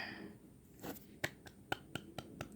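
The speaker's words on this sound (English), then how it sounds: "why am I clapping my hands like this?" Several sharp hand claps ring out one after another, close and fairly quiet in a calm indoor room, spaced unevenly at first and then settling into a steady run of five or six crisp claps.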